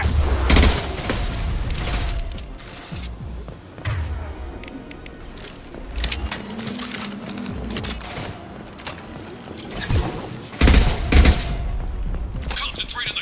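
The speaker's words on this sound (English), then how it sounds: "Taking heavy fire!" Gunfire in Mass Effect 2 combat, with bursts of shots and sharp impacts coming in irregular clusters at close range, mixed with mechanical clatter and with voices speaking between the volleys.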